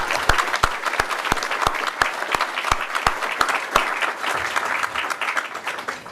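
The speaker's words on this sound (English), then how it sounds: "round of applause for Peter" Steady applause fills a hall at an open source awards ceremony after an award introduction, with a few louder, close claps standing out regularly over the dense crowd clapping, and no talking.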